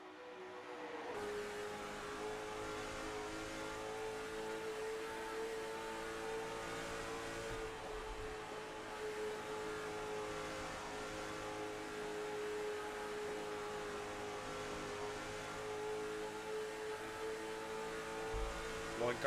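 Onboard a late model stock race car running at night at Dover, the engine drones loud and steady throughout, a sustained high-revving roar with slight pitch shifts through the corners.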